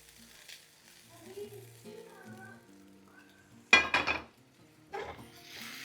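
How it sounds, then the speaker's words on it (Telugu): Sliced okra stirred together with onions in a pan, quiet sizzling under a softly speaking voice, then a couple of sharp scraping clatters of a spoon against the pan. "ఇప్పుడు ఈ బెండకాయల్ని ఉల్లిపాయతో పాటు కలిపేసుకుందాం."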